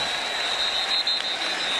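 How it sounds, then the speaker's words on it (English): A football stadium crowd roars on third and three during Alabama Crimson Tide vs. Florida State Seminoles, a dense and sustained wash of cheering noise with a thin high whistle running through it. "Listen to this crowd on 3rd and 3."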